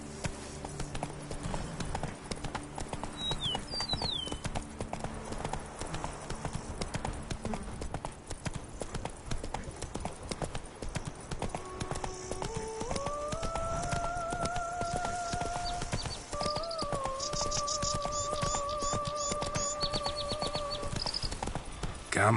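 A horse gallops in The Witcher 3: Blood and Wine, with steady rapid hoofbeats throughout, close and continuous, while faint tonal game sounds rise partway through.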